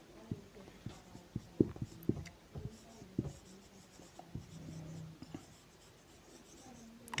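Pen scratching out numbers by hand on paper during a math lesson, a series of quiet, close strokes and taps in an irregular rhythm, with faint talk in the background.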